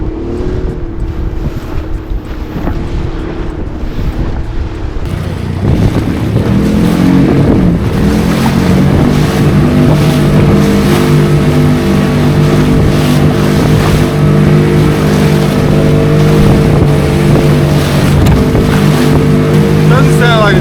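A boat engine running rough drones loudly and close over wind and water noise, with an uneven tone throughout.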